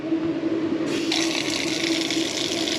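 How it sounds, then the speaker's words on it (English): A van's onboard water pump switches on and water starts flowing, a close steady rushing stream joined by a faint pump hum, starting a second in and running continuously. "Flip the switch for our water pump."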